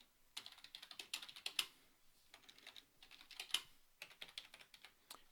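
Keys clatter in quick, irregular bursts as a name is typed on a computer keyboard, close and fairly quiet, with brief pauses between runs and no voice.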